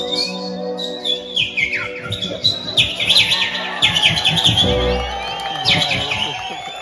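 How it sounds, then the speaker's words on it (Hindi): A small bird chirps agitatedly in rapid, high-pitched tweets and scolding trills, fairly close, while voices and some crowd noise carry on in the background. "चिड़िया कैसी गुस्सा करेगी।"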